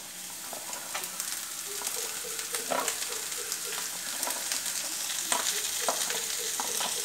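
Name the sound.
green beans stir-frying in a pan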